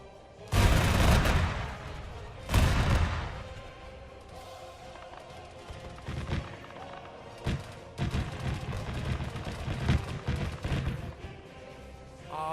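Gunfire and heavy cannon blasts from battling mechs in a video game, with two loud booming shots near the start followed by scattered thumps and bursts of fire at lower volume.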